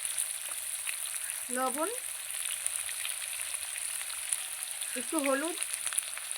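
Potatoes frying in oil in a pan with onion: a steady, close sizzle holds through the whole stretch, while a voice speaks briefly twice over it.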